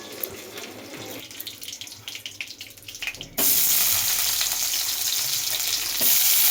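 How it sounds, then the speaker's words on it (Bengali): Potatoes frying in oil: quieter clatter and faint sizzling in the first half, then a loud, dense sizzle bursts in suddenly and holds steady to the end. "তো গাইস আমি আলু ফ্রাই করতেছি"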